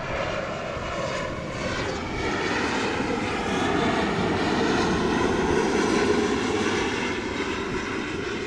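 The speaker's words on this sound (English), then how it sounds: "Here an EasyJet A320" An EasyJet Airbus A320 airliner at Amsterdam Schiphol airport gives a loud, sustained engine roar with a broad rushing hiss that swells slightly as it passes.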